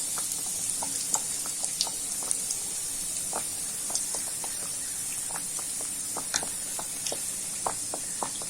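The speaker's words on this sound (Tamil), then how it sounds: "இப்போ பாத்தீங்கன்னா எண்ணெய் காஞ்சிருக்கு, இதுல ஃப்ரை பண்ணிடலாம்" Bread cheese bites frying in hot oil over medium heat, a steady soft sizzle with scattered crackles and pops throughout.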